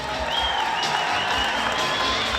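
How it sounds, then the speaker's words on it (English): An audience cheers and claps for students and administrators, a steady wash of crowd noise with whistles rising over it, filling the whole short stretch. "Let's give these students and administrators a big round of applause right now."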